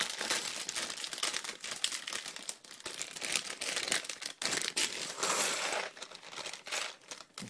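Plastic packaging of a LEGO Brickley the Sea Serpent set being torn open from the bottom, giving a dense, continuous close-up crinkling and rustling that runs throughout with brief dips.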